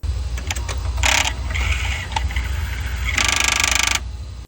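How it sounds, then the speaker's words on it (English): A BMW N55 Valvetronic servo motor runs with the valve cover off, hunting for its end stops. It gives bursts of whirring and clicking mechanical noise, with a loud sustained buzz near the end. "I ran the Valvetronic servo motor to test the adjustment range prior to installing the valve cover"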